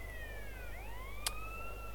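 A police siren in a GTA roleplay video game, faint and distant, its wailing tone rising and falling over a low hum, with one brief sharp click partway through.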